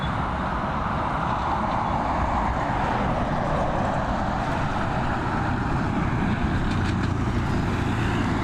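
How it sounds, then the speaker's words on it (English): Airbus A350 airliner at Dublin Airport, a loud, steady broadband engine roar that holds at constant strength throughout, close and continuous with no talk. "What a beautiful aircraft the A350 is."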